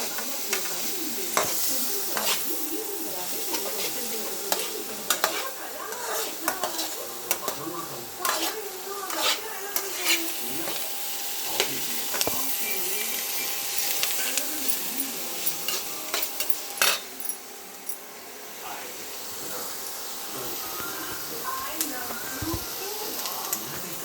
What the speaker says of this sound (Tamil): வெங்காயம் வந்து பொடிச்சு பொடிச்சா கட் பண்ணி வதக்கிடலாம்